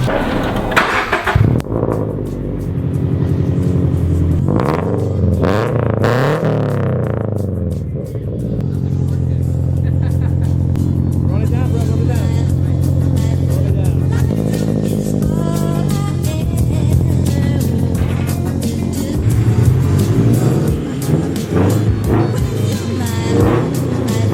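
A Subaru BRZ with a JDL single exit exhaust starts up and revs hard, with sharp blips and a deep, droning idle between them, loud and close, while people talk nearby.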